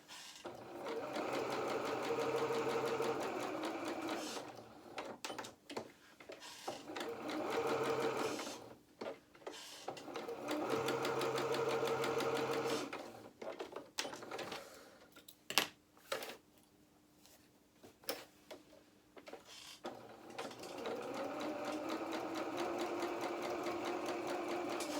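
A sewing machine runs in bursts stitching two rows along the sleeves of a small felt doll duffle coat, steady mechanical whirring that starts and stops with short pauses, pivots and quiet gaps between runs.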